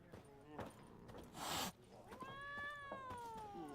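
A cat meows in The Witcher 3 video game, several drawn-out wavering meows in a quiet interior scene, with a brief bright noisy burst in the middle and faint game sounds underneath.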